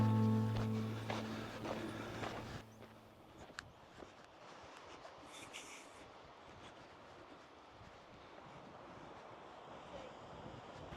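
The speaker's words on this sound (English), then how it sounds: "What an absolutely cracking beach here" Waves breaking and wind blowing across a beach on the Yorkshire coast, a broad steady wash of surf with gusty microphone buffeting, louder at first and then settling to a constant roar.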